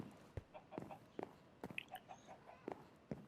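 Chickens cluck in the video game Minecraft, a string of short, evenly spaced clucks, fairly close and alone.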